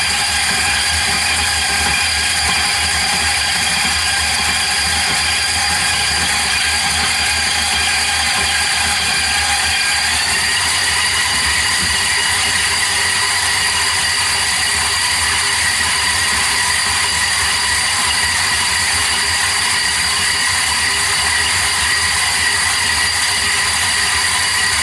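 Stand mixer creaming butter and sugar for cookie dough, a steady mechanical whir with a faint rattling, grinding texture, running continuously and fairly loud with no talking.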